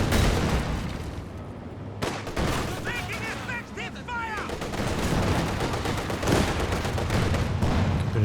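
Rapid gunfire in the strategy game Company of Heroes 2, dense bursts of automatic fire and shots crackling continuously amid battle noise, with a voice talking over it.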